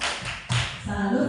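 A group doing a rhythmic 'tepuk salut' clapping chant, a few sharp claps in a short patterned burst with voices mixed in.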